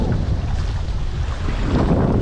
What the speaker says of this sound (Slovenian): Piha danes, piha.